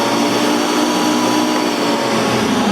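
Bosch Universal stand mixer running with its lid on, a steady whirring motor hum that holds constant and close throughout with no pauses.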